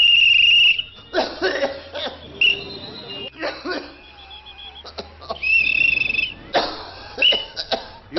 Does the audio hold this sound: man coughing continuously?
yes